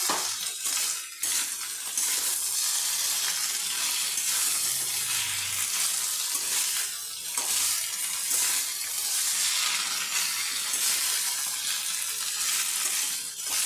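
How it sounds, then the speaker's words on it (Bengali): Potato pieces frying in hot oil over a high flame with poppy seeds and chopped coriander leaves, a steady loud sizzle with a few faint stirring clinks and no talking. "এবার গ্যাসটা আমি হাই ফ্লেমে করে দিয়ে পোস্ত আর ধনে পাতা দিয়ে আলুটা আমি লাল করে ভেজে নেবো"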